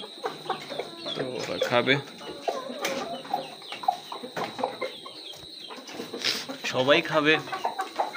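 Aseel roosters and chickens at feeding time, clucking repeatedly at close range while a person talks over them.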